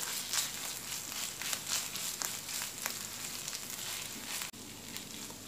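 Ground beef sizzling in a pan with tomato paste, salt and spices, a soft, steady crackling fry with scattered pops, faint and close, with no talking.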